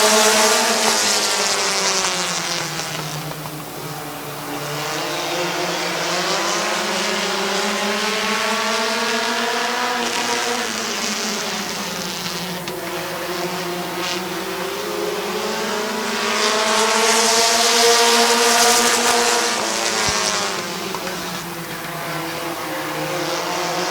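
Race cars roar off on the green flag at Midvale Speedway, a loud dense engine drone that swells and fades as the pack passes, with engines rising in pitch under acceleration and no talk over it.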